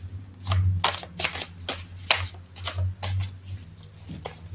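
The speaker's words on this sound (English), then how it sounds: "I only brought my tarot deck. To shuffle," Cards from an extremely large tarot deck are shuffled by hand, giving a quick run of close, papery riffles and slaps in uneven bursts.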